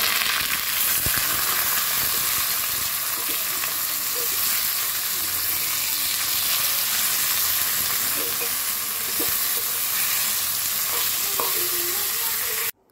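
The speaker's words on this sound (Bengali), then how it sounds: "আমি কড়াইয়ের মধ্যে রসুন আর শুকনো মরিচ ভালো করে ভেজে নিচ্ছি" Garlic and dried red chilies fry in hot oil in a wok with a loud, continuous sizzle and hiss. Stirring adds faint scrapes over the steady crackle, which cuts off abruptly at the end.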